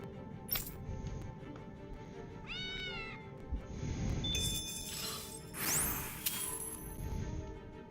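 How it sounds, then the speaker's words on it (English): A cat meows in the video game Tales of Arise: one rising meow stands out amid game ambience, with chimes and sweeping effects over a steady background bed. "Such a pretty kitty."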